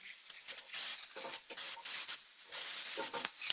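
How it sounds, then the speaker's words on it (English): Onions and garlic sizzle in a pan, a steady crackling hiss with uneven bursts and pops, close and moderately loud. "It's happening. It's sizzling."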